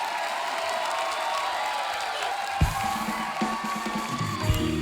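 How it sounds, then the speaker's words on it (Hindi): A studio audience at a comedy talk show claps in a steady, fairly soft wash of applause, with brief tonal sounds entering partway through. "ये ताली मेरी बात पे हो रही है या उसके काम पे हो रही है?"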